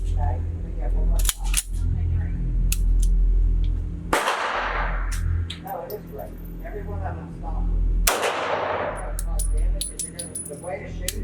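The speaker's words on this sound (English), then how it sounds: "I'm just gonna try to do some double action shooting." A CZ 75 B Omega Tactical pistol fired double action at an outdoor range: two loud, sharp reports with a ringing tail about four seconds apart, plus lighter clicks and handling knocks, over a steady low rumble.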